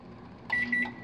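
A microwave oven in a North Dallas home emits a short electronic beep tone from its keypad, with a brief, clear, close tone that breaks and resumes against a quiet hum.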